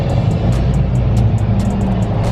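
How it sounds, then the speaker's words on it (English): Downtown Atlanta road traffic heard from inside a lifted truck: a loud, constant low engine and road rumble with rhythmic faint ticking from passing vehicles or tires, no voices. "Look at this traffic."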